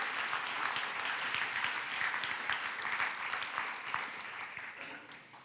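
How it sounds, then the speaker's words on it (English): Steady applause from a conference audience honouring Julia at a farming and agri-food wrap-up session, dense clapping holding even for about five seconds before easing slightly at the end, with no talk over it. "Can we please give a round of applause to Julia for the amazing work she's done there."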